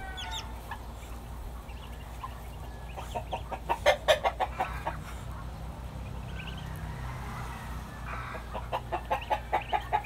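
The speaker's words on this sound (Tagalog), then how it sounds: "Marami na tayong mga alagang bibi nito mga lodi." Muscovy ducklings in a backyard farm peep in quick bursts of rapid high chirps, fairly close, over a low steady background hum, with a quieter stretch between the bursts.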